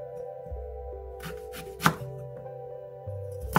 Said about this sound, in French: Découpez les poireaux en gros morceaux.